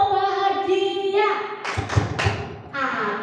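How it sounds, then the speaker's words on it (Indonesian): A group's rhythmic 'happy clap' with a few sharp clap bursts in quick succession, set between voices chanting together in a classroom. "Tepuk bahagia."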